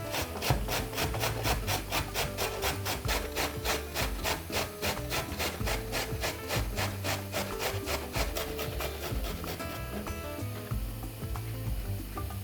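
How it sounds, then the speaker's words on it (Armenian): A carrot being grated by hand on the fine-holed side of a grater, steady rhythmic rasping strokes repeating quickly and evenly, close up, with no talking. "Գազարը քերում ենք գազարագույն հարթության վրա։"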